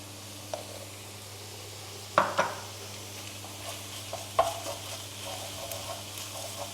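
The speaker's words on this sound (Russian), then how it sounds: "Перемешиваем сахар с томатной пастой." A spoon stirs sugar into tomato paste and scrapes in a pan over a soft sizzle, with a few sharp clinks against the metal.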